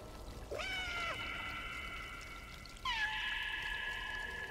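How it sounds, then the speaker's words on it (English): A cat in the video game Stray gives two drawn-out, mournful meows, a shorter rising one followed by a longer, steadier one, clear over a faint background hum. "That was such a sad meow."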